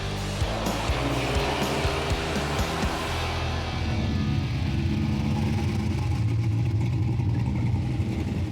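A project car, a barn-find Firebird, rumbles steadily as it rolls into a hidden barn, its engine loud and continuous throughout, with the tone shifting as it slows and settles.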